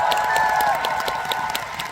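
Audience applause fills a hall at a fan meeting, steady dense clapping with a few scattered cheers, fairly loud and continuous.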